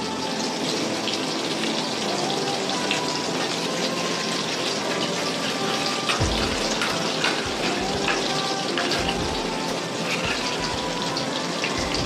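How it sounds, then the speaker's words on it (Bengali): Water is poured and stirred into a paste of ground turmeric, ginger, cumin and tomato in a home kitchen, a steady close splashing gush with some low knocks of mixing partway through, no voices. "এটাকে আমি একটু জল দিয়ে গুলিয়ে মশলা করে নেব"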